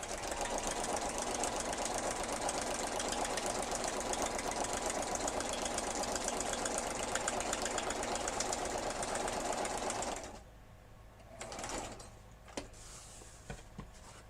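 A sewing machine stitches steadily and loudly for about ten seconds, after a stitch setting change, then stops, leaving a few faint clicks and handling noises.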